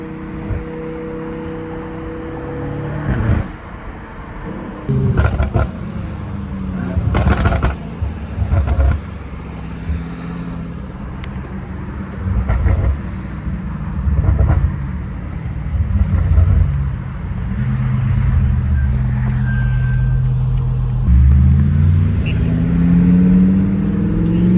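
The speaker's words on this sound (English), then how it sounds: "My car does not sound good at high gears" A BMW M5 Competition accelerates from inside the cabin, its engine droning and rising through higher gears in long pulls with shifts between them, and voices talk over it now and then.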